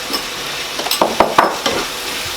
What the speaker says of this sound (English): So these are just finely diced onions. Straight into the pan.